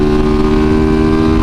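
Loud, steady engine drone from a dual sport supermoto motorcycle running at speed, close and sustained with strong tonal harmonics and no speech.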